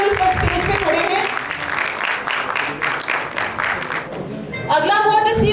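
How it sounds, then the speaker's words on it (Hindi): Applause from an award show audience, dense clapping for about four seconds that then breaks off as a voice comes in over the end. "बहुत सारी तालियां, आपकी तालियां नहीं रुकनी चाहिए"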